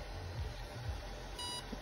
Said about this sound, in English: wait for the beeps to sound